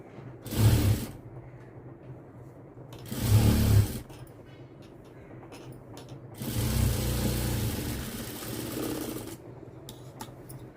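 A sewing machine stitches a lined blouse in three separate runs: two short bursts, then a longer steady whir, each stopping cleanly into near quiet.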